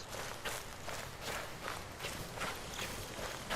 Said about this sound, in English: And I gotta remember it's my footsteps.